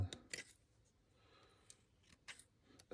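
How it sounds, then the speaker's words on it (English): A pair of stamped steel Talon scissors made in New Zealand being handled up close, giving several quiet, sharp metallic clicks and snips scattered irregularly over a near-silent background. "Stamped steel pair of scissors, something like that, like Talon, made in New Zealand."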